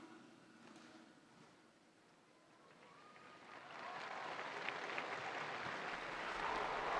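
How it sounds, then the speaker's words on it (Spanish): Faithful gathered in St. Peter's Square applaud after a papal blessing: a distant, faint crowd murmur grows into broad outdoor clapping that swells and holds from midway on. "Y el aplauso de los fieles congregados en la plaza de San Pedro acoge la bendición del Santo Padre."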